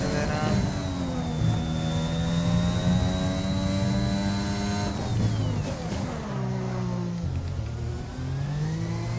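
An F1 car in F1 2021 accelerating through the gears, a loud high engine whine rising in pitch, dropping at shifts and braking, then building again, with a voice briefly under the engine.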